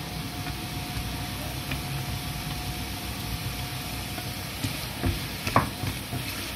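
Onion and garlic frying in olive oil while being stirred for a vegan quinoa and tofu vegetable dish, a steady close crackling sizzle with a few louder clacks of a utensil against the pan near the end.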